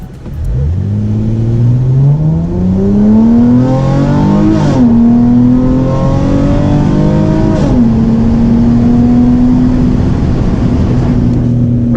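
A V6 Dodge Challenger on Jeep Grand Cherokee SRT tires, traction control off, accelerates hard from a standstill to 60 mph, heard from inside with the window cracked: the engine note climbs steadily through two upshifts, loud and continuous, with no talking.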